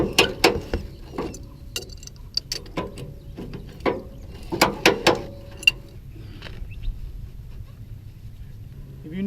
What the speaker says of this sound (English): now we're going to go and ratchet it up.